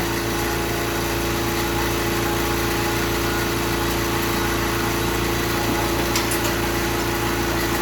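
An air compressor runs steadily, loud and close, as a continuous motor drone with a strong low hum that stays constant throughout, with no talking.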